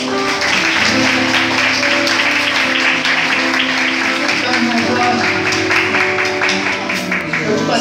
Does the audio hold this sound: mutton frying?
no